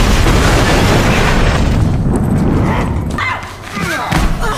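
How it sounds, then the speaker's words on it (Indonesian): A car bomb explodes in a film. A loud, broad boom and rumble fills the opening seconds, then decays into a lower roar with scattered debris and crackling noise. "memaksanya untuk meledakkan bom yang telah dipasang di mobilnya untuk melumpuhkan mereka"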